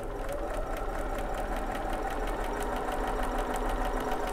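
A sewing machine runs steadily through tricky fabric with the needle-down setting on, giving a continuous, even mechanical whir with a rapid stitching pulse, close and fairly loud with no talking.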